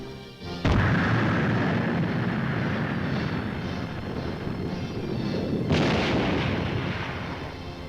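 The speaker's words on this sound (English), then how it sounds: "Nike Hercules, with either conventional or nuclear warheads, the most powerful air defense weapon known." A Nike Hercules air defense missile launches with a sudden booming blast that becomes a loud, sustained roaring rush, followed by a second sharp surge in the roar.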